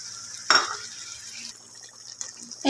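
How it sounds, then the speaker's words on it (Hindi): Yogurt being stirred into sizzling Afghani karahi gosht (goat meat) in a pan: soft wet stirring and scraping with a steady low frying sizzle underneath, close and moderate in volume, no speech. "1 कप योगर्ट हमने डाल दी थी।"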